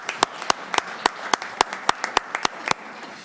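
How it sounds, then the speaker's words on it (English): Sparse, sharp claps ring out from a small group at a city economic development committee meeting, about a dozen distinct hand claps in an uneven rhythm, fairly quiet with a soft room background. "Round of applause."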